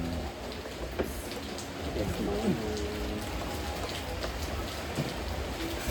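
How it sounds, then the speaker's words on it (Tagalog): Steady rain falls on farm fields in a constant, even hiss. Faint voices surface briefly in the background. "Ulan sa kabukiran."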